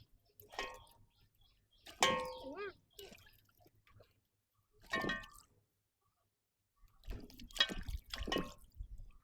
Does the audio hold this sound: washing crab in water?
yes